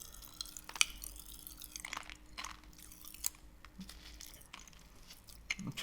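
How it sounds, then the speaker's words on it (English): Popping candy crackles in a mouth as it is eaten, giving faint scattered tiny pops and wet clicks at irregular moments over a low steady hum, with no talking. "Oh, they're popping already and I haven't even licked them."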